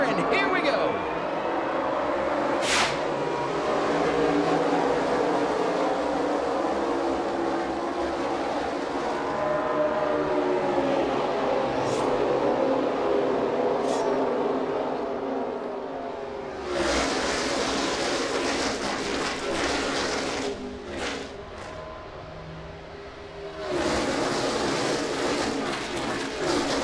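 NASCAR stock cars roar away at the green-flag start of a race at Daytona, a dense, sustained engine drone with surging swells, while commentators talk over it throughout.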